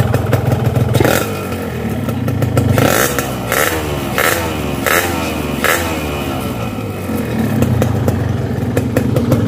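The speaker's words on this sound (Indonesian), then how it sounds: "Suara mesin adem" A cold motorcycle engine idles steadily up close, a low rumbling chug with a slight clattering tick, with a few light blips of the throttle, running on Gasoli G1000 two-stroke oil.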